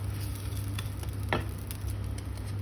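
Dosa frying on a hot pan, a soft continuous sizzle with a low hum of heat and a few faint ticks from the pan, brief and close, with no speech.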